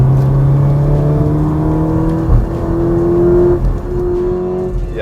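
A facelifted Porsche Macan's engine and exhaust pull loudly from inside the cabin, the tone climbing steadily through the revs, dropping briefly at a shift, then rising again.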